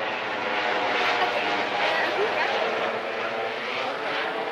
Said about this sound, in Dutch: Oh, een helikopter.